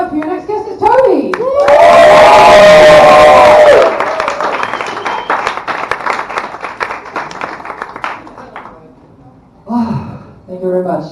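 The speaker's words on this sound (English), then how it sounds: "please keep that round of applause going" At a beginner stand-up comedy show in Berlin, the audience bursts into loud cheering and clapping that tapers into scattered claps, with voices briefly talking over the end.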